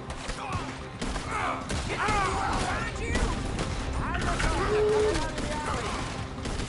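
Gunfire crackles through a shootout in the video game Red Dead Redemption 2, with dense overlapping shots and bursts that stay loud throughout while voices talk over the action.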